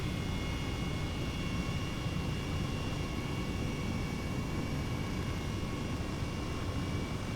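An Airbus H135 helicopter in Flight Simulator 2020 throttles up, a steady, even turbine and rotor drone holding at moderate level throughout with no voices.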